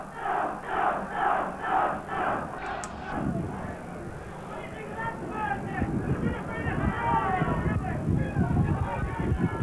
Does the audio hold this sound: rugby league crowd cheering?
yes